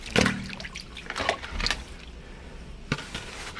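Water trickles and splashes into a clogged household drain during drain cleaning, with intermittent gurgling bursts and drips, fairly close and moderate in level, quieter in the middle.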